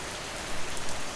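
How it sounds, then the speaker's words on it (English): Gentle rain falls steadily, a soft continuous patter of raindrops with no voices, fairly quiet and even throughout. "you might enjoy hearing yourself counting each gentle raindrop"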